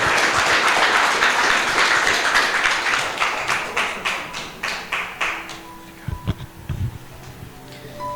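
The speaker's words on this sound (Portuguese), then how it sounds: "vamos estar recebendo um homem de Deus com as palmas bem forte" A church congregation claps hard in welcome, a dense burst of applause that thins into slower, more scattered claps and fades out after about six seconds, ending with a few stray knocks.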